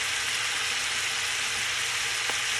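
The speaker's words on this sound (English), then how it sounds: "So all we're doing is just browning these turkey wings a little bit on each side" Turkey wings browning in a frying pan, giving a loud, steady, close-up sizzle that stays constant throughout with one faint tap near the end.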